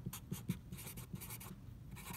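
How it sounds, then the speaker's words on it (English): A pen writes a name on paper during a drawing session, several quick close scratching strokes in an irregular rhythm, soft and alone. "I'll write my name."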